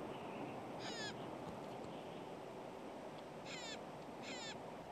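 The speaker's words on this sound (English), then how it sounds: "this intelligent member of the crow family, the Clark's nutcracker" A Clark's nutcracker, a crow-family bird of evergreen forest, gives three short, harsh, grating calls, one near the start and two close together toward the end, over a quiet background hiss.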